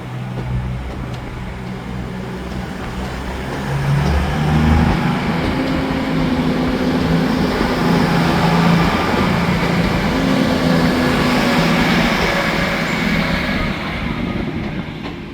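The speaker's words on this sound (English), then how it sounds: "And there we have 331-031 arriving in with the terminating Northern service." A Northern class 331 electric train, unit 331-031, arrives at a station platform at Manchester Piccadilly, a steady rumble and whine of wheels and motors that swells slightly and holds throughout.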